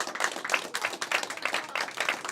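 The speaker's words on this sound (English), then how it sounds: "Give her a round of applause." Audience applause at a magic show at the Magic Castle, a short burst of dense clapping heard up close with no voices.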